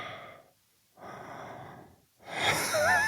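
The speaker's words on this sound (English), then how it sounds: "Hearing that breathing is a trigger now." Menacing masked-killer breathing from the 1978 horror film Halloween: slow, heavy inhales and exhales in separate bursts, close and alone, ending in a louder, strained, whimpering breath.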